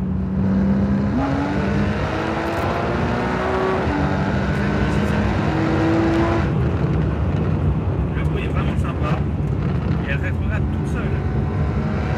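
Porsche 911 Carrera S type 991 engine in Sport Plus mode, droning steadily with stepped pitch changes as it shifts into third, heard from inside the car under continuous talking.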